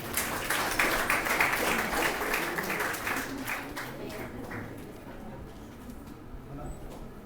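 Audience applauding at a public event in Harihara, Karnataka, a steady wash of many hands clapping that holds loud at first and gradually thins and fades.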